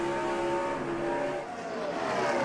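NASCAR stock cars racing on an oval track, a steady loud engine roar with sustained harmonic drone that dips briefly then swells again as cars pass, no talk.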